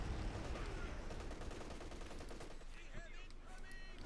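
Machine gun fire in Company of Heroes 2, a steady rattling stream of rapid shots with distant battle noise and a commentator talking over it.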